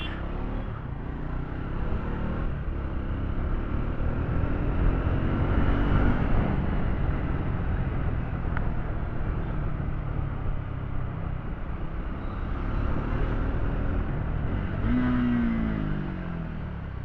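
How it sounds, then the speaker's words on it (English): Triumph Scrambler 400X motorcycle engine braking in morning traffic, a steady close engine drone with falling and rising pitch sweeps and wind rush running throughout. "Absolute masterclass of engine braking, huh?"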